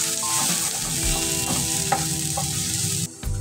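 Chopped onion and green chilli stir-fried in a pan: a loud, continuous close sizzle with soft spatula scrapes and light knocks, stopping abruptly near the end.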